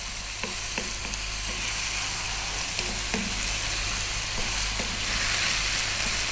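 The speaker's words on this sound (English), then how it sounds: "stirring all the time." Beef stew seasoned with cumin sizzles steadily in a pot while a spoon stirs it, giving a constant frying hiss broken by occasional scrapes and clinks of the utensil, with no voices.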